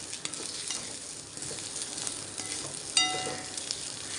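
Rice balls for ammini kozhukkattai are stirred in a hot pan, a steady close sizzle broken by scraping strokes and a metallic clink of the spoon, with no talking.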